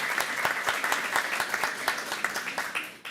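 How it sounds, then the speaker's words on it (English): Moderately faint audience applause for high school staff at a board of education meeting, with individual sharp claps standing out over a steady patter. "huge round of applause."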